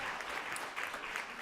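Audience applause at an honorees ceremony, a steady dense patter of many hands clapping, moderately distant and fairly quiet, with no voices over it.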